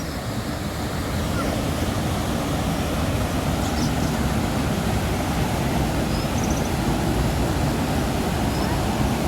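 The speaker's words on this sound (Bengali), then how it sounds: "দেখুন জলের স্রোত" A river current flows in the hills along the Silk Route near Zuluk, Padamchen and Aritar. The rushing water makes a steady, loud, broadband roar with no breaks, and wind buffets the microphone.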